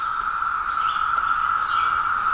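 Millions of male Brood X periodical cicadas sing together in a constant, loud chorus, with a few faint chirps over the drone.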